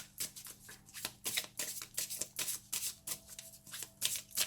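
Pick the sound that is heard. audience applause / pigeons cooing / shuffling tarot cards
shuffling tarot cards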